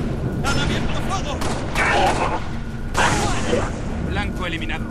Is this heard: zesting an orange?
no